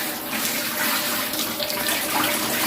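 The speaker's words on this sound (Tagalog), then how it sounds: "So, on natin yung tubig mga choy." Water runs from a tap through a newly installed single-point water heater, a loud, steady rushing and splashing stream that continues without a break and with no talk over it.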